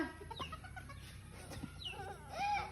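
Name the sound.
chicken clucking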